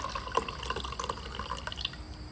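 Coffee poured from a Yeti into a mug, a close trickling splash with small drips and liquid spatters over a soft background.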